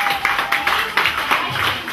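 An audience claps together at an event, a steady dense patter with rhythmic accents roughly every quarter second, fairly loud and close throughout.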